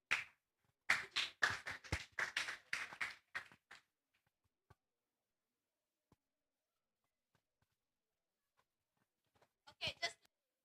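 Applause from an audience at a national environmental primary schools debate and speech championship, a burst of claps lasting a few seconds, then near silence with faint taps, then a brief second round of clapping.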